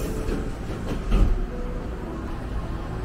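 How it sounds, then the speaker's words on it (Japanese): A Nose Electric Railway train departs Yamashita station during a shunting move with passengers aboard, heard from inside as a steady low rumble with a brief heavier clunk early on. "乗ったらすぐ発車なのだ。"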